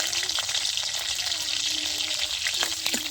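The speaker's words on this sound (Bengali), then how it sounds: "তেলটা হিড়ি উঠছে পেঁয়াজ দিব পেঁয়াজ দিতেছে" Sliced onions sizzle in hot oil in a home kitchen, giving a steady, close frying hiss throughout with a few faint stirring clicks near the end.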